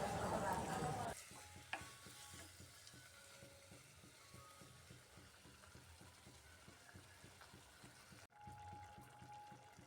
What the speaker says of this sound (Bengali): খুব ভালো করে কষিয়ে নিচ্ছি, মশলাটা একদম শুকনো হয়ে গেছে